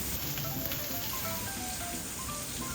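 Butter sizzles and spits steadily in a pan over medium-low heat as it is spooned over the food with crushed garlic, a dense crackling hiss running the whole time with no voices.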